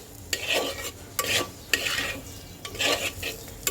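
A spoon scraping and stirring cumin powder through prawn curry in a pan, producing about five rhythmic gritty strokes over a faint low sizzle, close and fairly loud.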